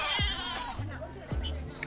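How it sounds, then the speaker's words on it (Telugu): Sheep at a petting zoo in Peeku Park, Yercaud, giving two close, wavering bleats with people talking over and between them. "ఇక్కడ మనకు కొండ గొర్రెలు కనబడతాయి"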